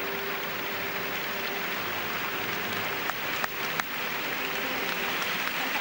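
Steady applause fills an arena at a figure skating Grand Prix Final, a dense wash of clapping with a few sharper claps standing out. No voices rise above it.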